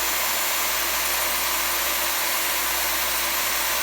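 A power drill spins a 25-06 rifle case during flame annealing, a constant loud whirring hum with broad hiss, steady and unbroken.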